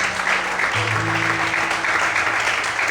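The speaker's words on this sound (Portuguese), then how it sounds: "Você pode desocupar sua mão e aplaudir ao Senhor neste momento." A church congregation at a Portuguese-language worship service applauds steadily for the whole stretch, the dense clapping filling the room over faint low sustained musical tones.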